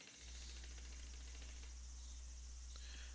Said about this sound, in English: I hear cicadas in the background, which is kind of cool